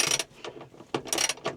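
A torque wrench tightens a bolt during a combine overhaul. It gives quiet, close mechanical clicks and ratcheting in two short bursts, with nobody speaking.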